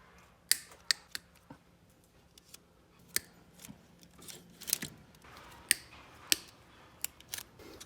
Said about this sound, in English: start cutting these zip ties here